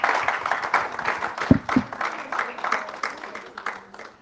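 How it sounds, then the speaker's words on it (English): A conference audience claps together in a brief, moderate round of applause, the patter rising and fading unevenly over a few seconds. "Let's give her a hand of applause."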